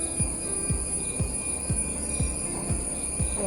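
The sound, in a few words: insects calling in a forest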